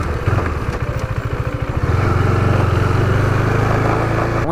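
A KTM 390 Duke single-cylinder motorcycle engine, close and loud, pulses unevenly at first and then settles into a steady, strong drone as the bike rides on, with no talk over it.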